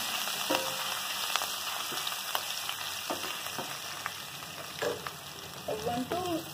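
Ginger and green chillies fry in a pan for dal dhokli, a steady close sizzle broken by a few brief taps and scrapes of a spoon stirring.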